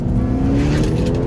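A tuned car on new Michelin PS4S tyres pulling hard in second gear on boost, a loud, close engine roar climbing steadily in pitch through the whole short burst, with no talk.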